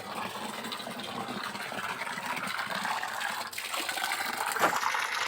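Water runs steadily into a bucket outdoors, a continuous splashing gush that stays moderately loud and swells slightly toward the end.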